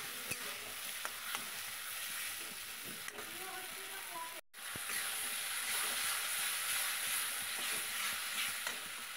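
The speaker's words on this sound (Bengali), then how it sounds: "লঙ্কার গুঁড়ো দিয়ে আর একটু কষিয়ে নেব।" Curry masala with chili powder sizzles steadily in a pan for egg curry, with the soft scrape of stirring and a brief gap midway; no talking.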